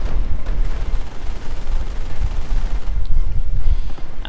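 Sustained machine gun fire in the Company of Heroes strategy game, a loud dense rattling barrage with continuous bursts and battle noise throughout.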